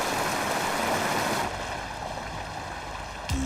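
A steady rush of flowing water fills the scene from a cartoon, a broad hiss that holds for over a second, then drops to a softer, thinner trickle before a brief sharp click near the end.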